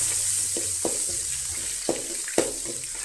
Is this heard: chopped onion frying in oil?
yes